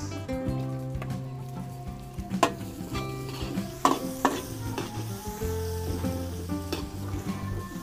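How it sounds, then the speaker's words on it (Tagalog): Garlic and onion sautéing in a pan for a fiesta dish in a Philippine province, with steady crackling sizzle, sharp scraping stirs and clinks of a utensil against the pan throughout, with no talking. "Luluto-lutoy lang po natin ang bawang."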